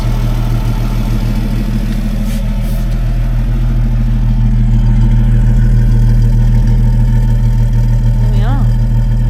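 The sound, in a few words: Rover P4 engine idling with new exhaust fitted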